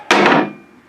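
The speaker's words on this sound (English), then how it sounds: "I put a punch mark here on this piece right here" A single sharp metallic strike of a hammer on a center punch marking a steel piece for an air compressor hitch, close and loud with a quick ringing decay.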